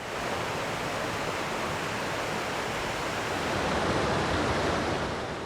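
Henry Creek, the water source for a rural water association near Rhododendron, Oregon, rushes in a steady, loud broadband wash that holds constant throughout, with no voices present.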